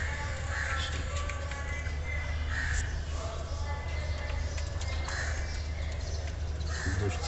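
Kept koel birds give repeated calls at steady intervals over a constant low hum and background chatter.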